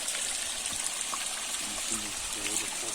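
A small mountain stream trickles and flows below a slope in the Carpathians near Kin Hrofetskyi, a soft continuous wash heard from a distance with a voice speaking over it.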